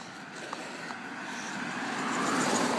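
Cars driving past on a road, a broad whoosh of tires and engine slowly building louder toward the end as a vehicle approaches, heard alone without talk.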